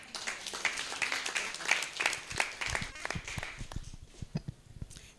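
Scattered applause from a group, moderately faint, with dense clapping that thins out toward the end.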